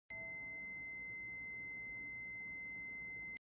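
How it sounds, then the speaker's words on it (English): A multimeter in continuity mode emits one steady, unbroken high beep while testing a dry relay on a ButterflyMX 8-relay elevator control system; the tone is clear and constant, with no talk. "A continuous beep should be heard while the probes are in place."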